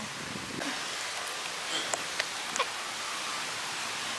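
Heavy rain pours down outdoors in the Bahamas, a steady, dense hiss throughout with a few sharper drop ticks near the middle and no one talking.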